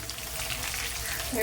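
Chopped shallots and garlic frying in oil for a Kerala mackerel fish curry, giving a steady close sizzle that swells slightly at the end.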